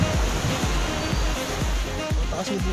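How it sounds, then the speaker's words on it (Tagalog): Strong ocean waves surge and wash onto Puka Beach, Boracay, in a continuous roar, with rhythmic rushing pulses from the water close by. "Malakas kasi alon eh"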